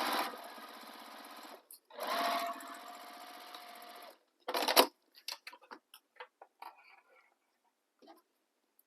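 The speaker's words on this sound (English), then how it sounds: "sew down the other edge" A sewing machine stitches down the edge of a bag strap for a sling bag in two quick bursts, followed by a sharper run and scattered clicks and handling noises before it falls quiet.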